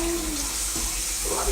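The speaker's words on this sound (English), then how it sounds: "Rinse off the jug. Ow, the water was hot" A smoothie jug is rinsed under hot tap water: a steady close rush of running water with a brief shift in tone as the stream hits the jug.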